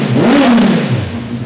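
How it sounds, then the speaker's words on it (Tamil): A motorcycle engine revs up loudly once, the pitch climbing then falling back to a steady idle, close and alone. "ஸ்டார்ட் பண்ணி காமிச்சிடலாமா? கண்டிப்பாக. லைட்டாக த்ராட்டில் பண்ணுங்க"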